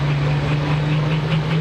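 A big-bore John Deere pulling tractor engine thunders at a truck and tractor pull, as a deep, steady rumble that holds with no break.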